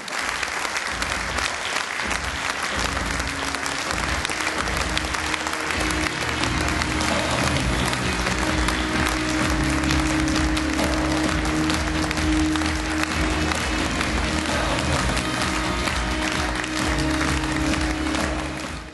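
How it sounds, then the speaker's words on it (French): A crowd applauds warmly for the arrival of the FCE Schirrhein football team at a tribute gathering, dense, loud sustained clapping that holds steady for the whole stretch. "je voudrais que vous applaudissiez très chaleureusement la venue de l'équipe du FCE de Chiragne-sur-Ofen"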